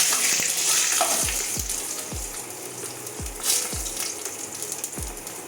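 Whole spices, bay leaf, three cardamom pods and cinnamon, sizzling in hot oil in a pan for chicken pulao, a steady close crackling hiss with a few soft thumps, no talk.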